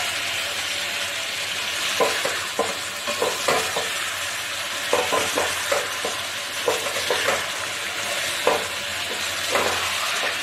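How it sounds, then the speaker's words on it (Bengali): Jackfruit cooks down with spices in a pan, a steady close sizzle running underneath while a spoon or spatula scrapes and knocks at the pan in irregular strokes throughout. "এখানে এঁচোড় কষানো হচ্ছে, সব মশলা টসলা দিয়ে"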